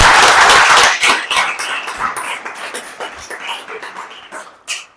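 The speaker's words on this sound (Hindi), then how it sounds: "आप सभी लोगों के लिए एक बार आप खुद के लिए ताली बजाइए" An audience at a Gandhi Jayanti open mic competition claps for itself, a loud burst of applause for about a second that quickly thins into scattered, fading claps.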